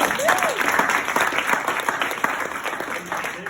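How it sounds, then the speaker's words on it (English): Dense, steady applause from an audience at a Q Sciences business event, held at an even level throughout, with scattered cheers and a voice rising briefly over the clapping. "Another round of applause for Jake"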